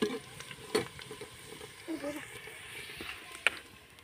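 Onions fry and are stirred in a pan in a village home kitchen, giving a steady close sizzle broken by scraping stir strokes, with voices faintly present.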